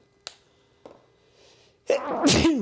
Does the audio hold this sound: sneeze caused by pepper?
yes